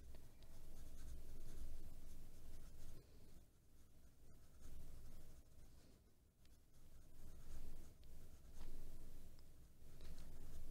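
Steady pencil strokes scratching on paper while sketching muscle groups of a human figure, continuous close scratching and rubbing with brief pauses, no talk.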